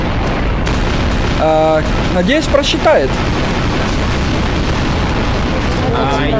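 A loud booming explosion goes off in the video game Garry's Mod, followed by a rumbling burst, while players talk over the noisy game audio before and after.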